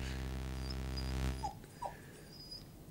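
Dog in a tense standoff lets out a low, soft whimper and brief growl against a steady hum, fading into quieter breathy sounds.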